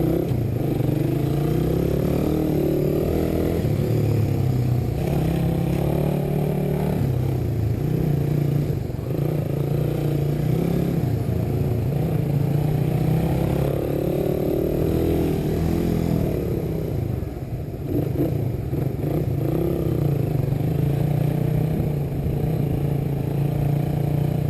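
A 2019 third-generation carbureted Suzuki Raider R150 motorcycle runs test laps, its engine droning steadily and loudly close by for the whole stretch, with slight rises and dips in revs and some light mechanical clatter.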